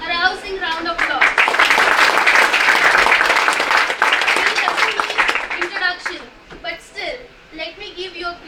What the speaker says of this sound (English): Friends, please give him a rousing round of applause.